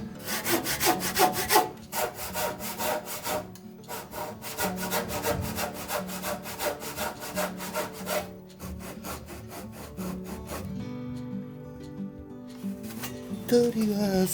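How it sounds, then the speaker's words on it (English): A handsaw cuts exposed timber on a stairwell catwalk build with steady, rhythmic rasping strokes, loud and close. It pauses briefly and picks up again, and a faint voice shows up now and then. "It is easier to cut neatly with a handsaw."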